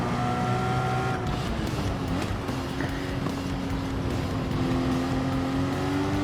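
A race car engine in the Gran Turismo video game holds a steady, loud drone during a race in France, its pitch shifting as gears change, with no talk over it.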